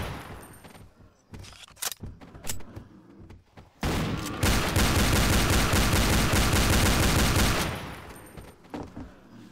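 Rapid gunfire from a weapon in the shooter game Codename Cure: scattered single shots, then a dense, loud, continuous burst lasting several seconds before fading back to sporadic cracks.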